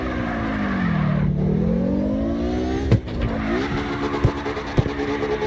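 A car drifting in CarX Drift Racing, with engine revs that sweep down and then climb again, tires sliding, and a few sharp knocks, loud and continuous throughout.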